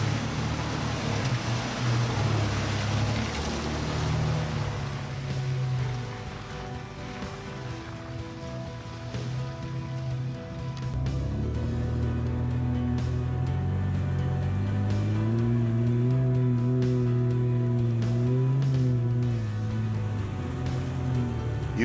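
Lifted Toyota truck pushing through a deep water crossing, a rushing, splashing wash of water over a low engine drone that rises in pitch as the truck pushes on, with no talk.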